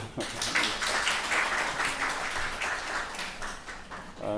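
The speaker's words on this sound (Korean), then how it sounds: "박수로." Church congregation applause welcoming a visiting pastor, a steady dense patter of many hands clapping throughout, fairly close and sustained for a few seconds.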